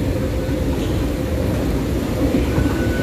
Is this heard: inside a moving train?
yes